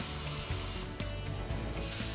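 Powermax SYNC plasma torch being dragged across metal plate, a loud steady hissing roar of the cutting arc with sparks spraying, continuous and close with no talking.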